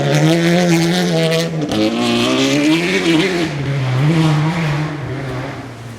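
A two-wheel drive rally car howls through the first corner of a forest stage rally, its loud engine note rising and falling steadily over six seconds with a brief dip in revs midway, close and unbroken.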